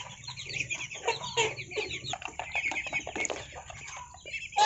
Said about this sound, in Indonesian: ini ayam kampung asli ya, nggak ada silangannya, ayam kampung asli